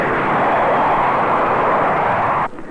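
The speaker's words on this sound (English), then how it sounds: "the 4 jet engines working at full power" A four-engine jet airliner climbs away at full power just after takeoff, giving a loud, steady, broadband roar that drops off abruptly near the end.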